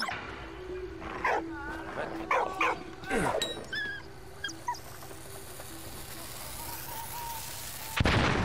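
A dog barks and yips repeatedly in the World War I video game Valiant Hearts: The Great War, with short sharp barks and whimpers over a steady background hum and a distant thump.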